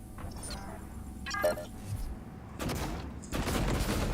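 Glue gun firing in the video game Prey, a run of rapid hissing bursts and thuds with loud, dense shots toward the end, and no voices.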